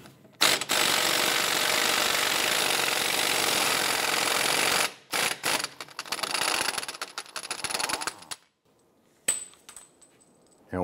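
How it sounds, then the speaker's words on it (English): A 32 mm socket on a ratchet or impact tool loosening and removing the rear axle nut on a 2005-2007 Ford Five Hundred: a loud, sustained mechanical rattling burst, then shorter bursts and clinks before going quiet, with no talking. "Using a 32 millimeter socket, we're going to go ahead and loosen and remove the axle nut here."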